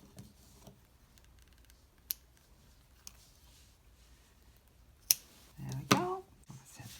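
Scissors snip through yarn to cut it free after finishing a beginner cotton crochet dishcloth, a few faint clicks followed by one brief, close snip near the end, with quiet handling sounds around it.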